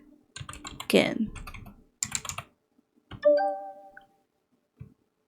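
Bursts of clicky computer keyboard typing, close and crisp, with short rattling runs of keystrokes followed by an electronic chime and a few lone taps.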